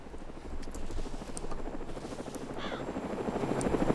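A helicopter in the video game DayZ passes overhead, its steady rotor drone building gradually louder across the clip, with no talk over it.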